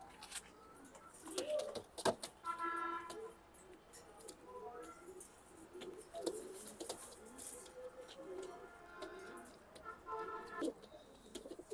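Racing pigeons coo in repeated soft, throaty bursts at close range, with other bird calls and scattered knocks around them and no talking.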